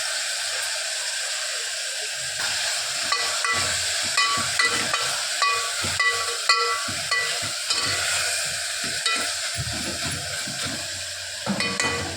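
Chopped tomatoes with salt sautéing in a pan, a continuous bright hiss and sizzle with frequent clinks and scrapes of a spoon stirring against the metal, close and steady throughout.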